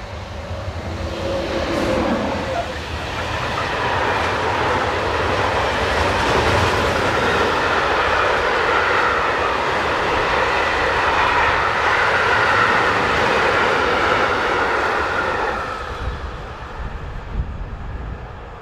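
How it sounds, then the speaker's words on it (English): Locomotive 26217 hauls a northbound freight train past grain silos at Avricourt village, a loud, steady rumble and roar that builds, holds for many seconds and fades near the end, with no voices. "26217 heads north with a freight for Wapi past the grain silos at Avricourt village."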